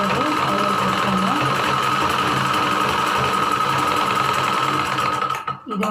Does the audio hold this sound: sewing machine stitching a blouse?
yes